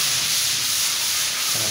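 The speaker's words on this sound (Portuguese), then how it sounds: "Os meninos já estão aqui já começando a raspar esse quarto também" Walls of a room being scraped during a home renovation produce a steady, close, broadband rasping hiss that continues evenly for the whole moment.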